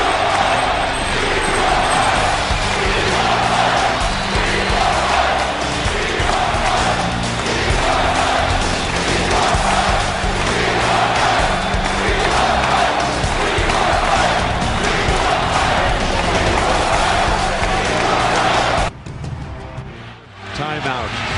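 A packed basketball arena crowd stands and cheers for Michael Jordan at the Wizards vs 76ers game in 2003, a loud continuous roar of voices that holds steady throughout before cutting out briefly near the end, with a commentator talking over it.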